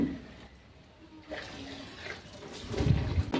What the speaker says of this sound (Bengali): তো এখন আমি জলগুলো ভরে নিচ্ছি, বড় বড় বালতিগুলো ভরতে দিয়ে